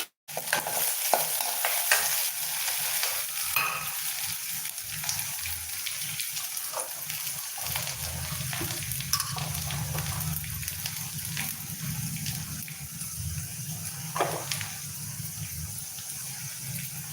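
Spinach greens (lachakottai keerai) stirred and fried in a pan for an egg poriyal, with a steady loud sizzle and repeated spatula scrapes running throughout, and a deeper frying rumble building in the second half.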